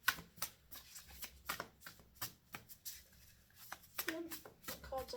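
Playing cards shuffled close up, a series of quick riffling bursts in an uneven rhythm, with a voice talking softly between them.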